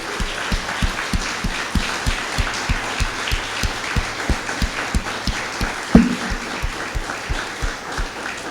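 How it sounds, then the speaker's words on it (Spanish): A church congregation applauds during a Spanish-language sermon, with steady clapping riding over an even, rhythmic low thump that repeats about three times a second, plus one sharper hit midway. "Denle un aplauso al Señor, hermano."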